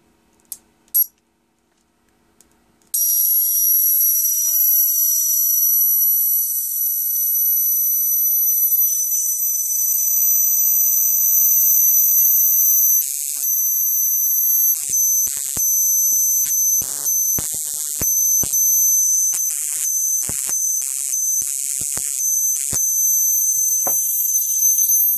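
A high-voltage spark gap unit fires to start a welder, a loud, continuous piercing buzz and crackle that snaps on abruptly after a few seconds of near silence and runs steadily, with intermittent sharper crackling bursts.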